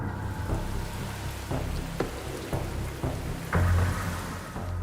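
Heavy early monsoon rain pours steadily across farmland in Maharashtra, a dense continuous hiss with occasional sharper splashes and thumps, no voices.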